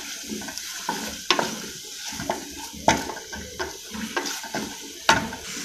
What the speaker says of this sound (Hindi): मायो डालिए और मायो को अच्छे तरीके से इसमें मिक्स कर दें।